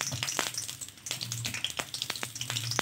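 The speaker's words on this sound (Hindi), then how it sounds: "इनको हम फ्राई कर लेते हैं।" Chicken wontons fry in hot oil, a close, busy crackle of popping and sizzling with dense sharp spits throughout and no voices.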